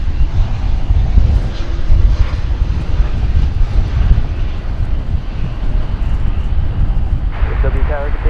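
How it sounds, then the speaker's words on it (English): An Airbus A321neo airliner comes in to land at Dallas Fort Worth airport, its steady broadband engine roar filling the scene and holding loud throughout, with a brief tonal whine near the end and talk faintly underneath. "It's a Airbus A321neo. So we're gonna zoom out, follow it along as it makes a landing."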